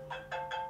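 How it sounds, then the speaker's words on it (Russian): A mobile phone ringtone plays a short repeating electronic melody, three quick tonal bursts in under a second, fairly quiet and clear with no talk over it. "Мама звонит, потом перезвоню."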